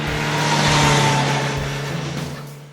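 A revised-engine RR naked sport motorcycle revs up close, rising to a loud peak and then easing down over a couple of seconds.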